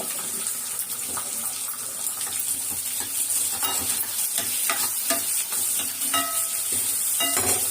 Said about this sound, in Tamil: வெங்காயமும் பூண்டும் நல்லா வதங்கட்டும்